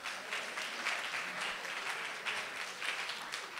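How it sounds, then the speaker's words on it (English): An audience claps continuously in a hall, a dense, even wash of applause with slight surges and no clear speech over it. "We'll just keep clapping"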